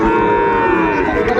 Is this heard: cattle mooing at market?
yes